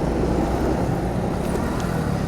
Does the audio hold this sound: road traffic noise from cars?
yes